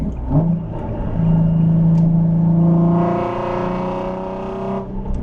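A Nissan 370Z engine fitted with a 2023+ Nissan Z exhaust hums at a steady drone, then revs up on a downshift with a rising, throaty exhaust note that holds briefly before dropping off.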